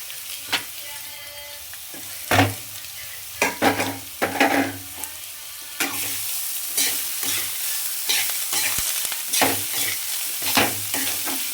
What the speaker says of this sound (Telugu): దానిలోకి ఇప్పుడు క్యారెట్ వేసేసుకోవాలండి